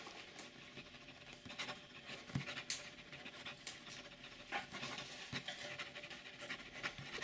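A pen nib scratches across paper in faint, close strokes with soft irregular scraping and small taps, quiet and without voices.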